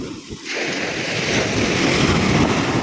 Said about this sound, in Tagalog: Medyo malakas ang alon niya.